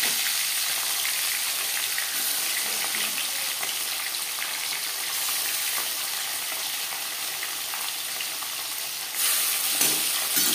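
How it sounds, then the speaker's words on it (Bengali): Marinated fish frying in hot refined oil, a loud dense sizzle with constant crackling and spitting throughout, a sharper bubbling surge near the end, nobody talking. "মাছ ভাজবার জন্য বেশ খানিকটা রিফাইন্ড অয়েল গরম করে নিয়েছি। এবার দিয়ে দিলাম ম্যারিনেট করে রাখা মাছ।"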